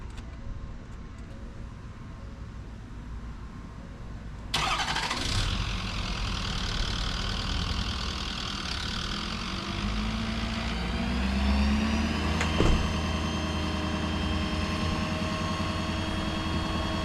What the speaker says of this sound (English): So I'm gonna start the truck up